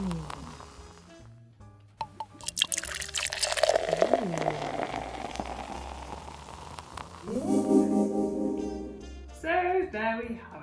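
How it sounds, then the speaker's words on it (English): Freshly brewed coffee poured into a cup, a steady liquid stream lasting several seconds, close and fairly quiet, with small clinks before and after. "Now all you need to do is pour."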